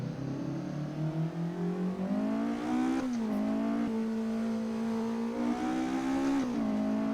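An Escort MK2 pulling away on a track in Assetto Corsa, its engine revving and climbing through the gears, rising, dropping at each shift and rising again, loud and steady with no voices.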